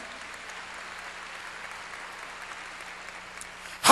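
A church congregation gives soft, distant applause, a faint steady patter of many hands that continues evenly before a sudden loud sound cuts in at the very end.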